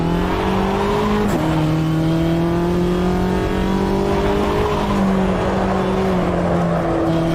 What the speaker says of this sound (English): I listen to the engine.